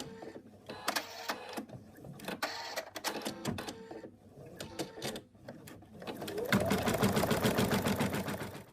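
An embroidery machine stitching an applique placement line, irregular clicks and taps at first, then a dense, fast, even stitching rattle building near the end, close and moderately loud.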